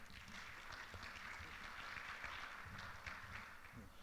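An audience at a lecture gives a round of applause for guest of honor Justice Antonio Carpio, heard as faint, steady, distant clapping that lasts the whole stretch.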